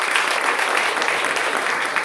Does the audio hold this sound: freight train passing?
no